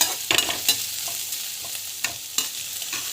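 Chana dal being stirred and sautéed in a hot pan for a Tamil home-style dish, with a low steady sizzle under scattered sharp scraping stir strokes of a spoon against the pan, close and alone with no talking.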